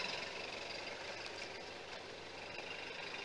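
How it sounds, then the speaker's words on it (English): An old pickup truck's engine runs at a steady idle, a low continuous rumble with light knocking texture, recorded close and alone, no talk. "Engine still runs super."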